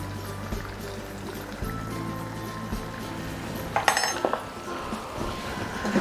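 Chicken curry with garlic, ginger and turmeric being stirred in a pan, soft scraping and sizzling with a burst of metallic clinks from a spoon against the pan, close and moderately loud.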